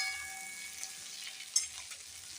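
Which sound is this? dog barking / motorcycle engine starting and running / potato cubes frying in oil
potato cubes frying in oil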